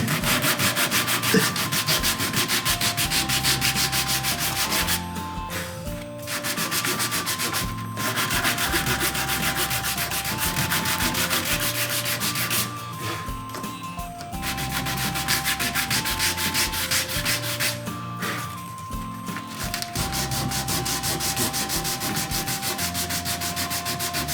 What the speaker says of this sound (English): just taking that sharp edge off it reduces the likelihood of that chipping. Give it a little bit of a sand.